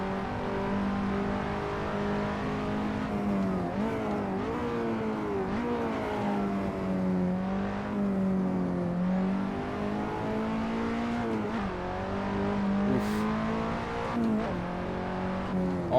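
A KTM X-Bow race car at Laguna Seca in a sim racing game, its engine droning steadily and rising and falling in pitch through the gears, with brief tire squeal near the middle.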